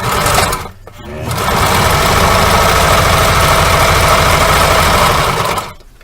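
A sewing machine back-stitches a fabric cornhole bag with a loud, steady, close mechanical whir that starts after a brief stutter and runs for several seconds before stopping.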